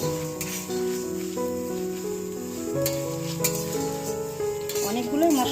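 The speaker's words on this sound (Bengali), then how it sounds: "মশলা ভাজছি" A dry pan sizzles and rasps as spices are stirred, with scraping strokes and soft crackles throughout, while a faint tonal hum runs underneath.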